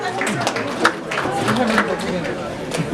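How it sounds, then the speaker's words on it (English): Round of applause from a banquet audience at an MLK event, scattered claps and cheering with voices talking over it throughout. "Give yourselves a round of applause."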